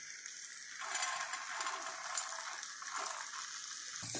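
Fried potatoes and peas being stirred with spices in a pan for a vegetarian aloo dum, a soft steady sizzle with light scraping and stirring, fairly quiet and close.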